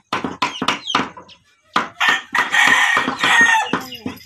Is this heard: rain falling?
no